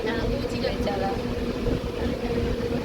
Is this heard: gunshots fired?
no